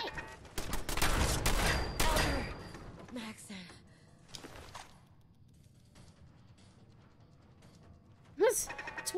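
Bursts of rapid gunfire in Fallout 4 ring out loudly over the first two seconds, with scattered shots afterward and a sharp sound near the end, while a voice talks over the combat.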